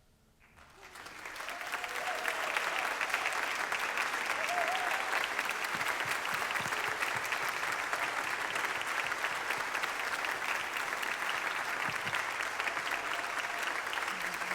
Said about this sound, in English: will you please stand so we can give you a round of applause?